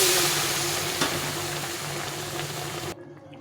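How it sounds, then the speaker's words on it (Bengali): Soybean curry sizzles and fries in a pan after a little water goes in, a steady close hiss with a few stirring knocks, then it cuts off abruptly to near silence. "সামান্য জল দিয়ে কষিয়ে নেব।"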